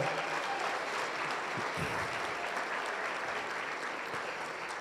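Applause for the staff and chefs of St. Clair College Center for the Arts at an alumni awards gathering, a steady, dense crowd clapping that holds evenly for about five seconds at moderate volume.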